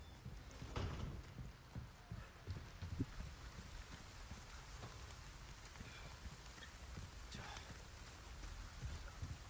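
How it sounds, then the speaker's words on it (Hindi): Rain in the video game Resident Evil 4, a faint, steady patter and hiss of falling rain throughout, with a few soft thuds and footstep-like taps underneath and no talking. "बारिश हो रही है, बारिश।"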